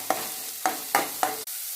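Onion and curry leaves fry in hot coconut oil, with four sharp stirring scrapes in quick succession over a steady sizzle.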